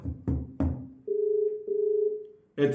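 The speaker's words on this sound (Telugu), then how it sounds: "రింగ్ అవుతుంది, ఎత్తు." A phone rings on an outgoing call, a steady ringback tone in two tonal bursts after a few short low thuds, then a sudden louder noise breaks in at the end.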